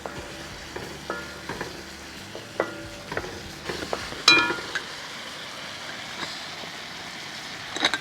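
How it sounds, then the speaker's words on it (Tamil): Tomatoes and chili powder frying in a pan while being stirred for a sambar-style curry, with soft steady sizzling and scattered spoon scrapes and clinks close by, rising briefly in the middle. "இதுக்குள்ள தக்காளி நல்லா மிக்ஸ் பண்ணி தக்காளி வதங்கட்டும்"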